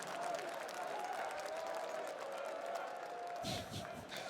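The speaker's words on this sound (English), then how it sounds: "And the cheering sections." Stadium crowd at the PGL Major Stockholm 2021 CS:GO match between Natus Vincere and Gambit, a faint, steady wash of cheering and applause heard at a distance, with a brief louder swell near the end.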